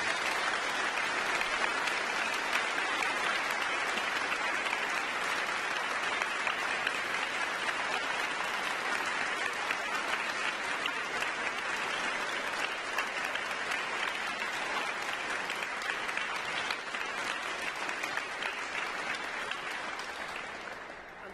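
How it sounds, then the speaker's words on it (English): Sustained, dense audience applause fills a cathedral at a licensing service for lay ministers, loud and continuous for about twenty seconds before beginning to taper at the end. "Let's give them a big round of applause."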